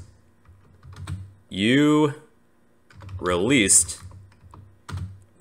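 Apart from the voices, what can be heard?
typing on a computer keyboard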